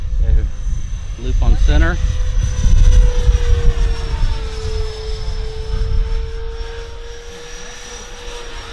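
Dynam Gloster Meteor radio-control jet on its maiden flight at full throttle, a loud whine that rises and falls with Doppler shifts as it passes overhead, under brief talk from people nearby.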